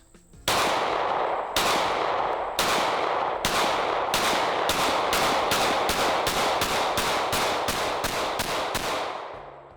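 Pistol shots fired at a range, comparing Glock and Smith & Wesson handguns: a steady string of loud, sharp reports, slow at first and then quickening, close and without talk.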